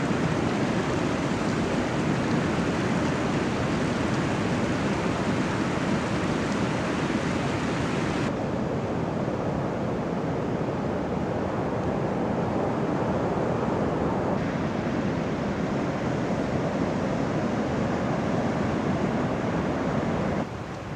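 Steady, loud roar of ocean surf rolling onto a beach on the Olympic Coast, a continuous wash of breaking waves with no distinct pauses, heard alone.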